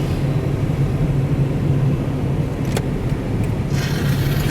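A steady, loud road rumble inside a moving car, with constant low engine drone and tire noise throughout and a brief faint higher tick partway through.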